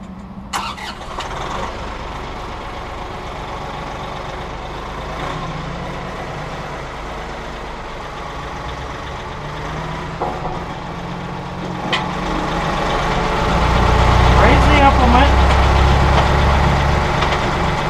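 A tractor fitted with a skid steer quick-attach loader cranks and catches, then settles into a low, steady idle that grows louder and rumbles on.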